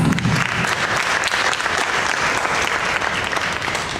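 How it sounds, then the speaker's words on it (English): A youth leadership program audience at a Toastmasters event breaks into sustained applause, a dense, steady wash of many clapping hands filling the room without pause. "Let's give her a big round of applause."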